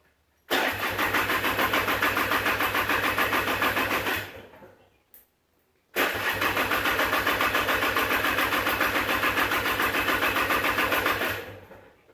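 A Polaris 300 4x4 ATV engine is cranked to start with the choke on, two long loud bursts of rapid rhythmic churning separated by a brief pause, without catching.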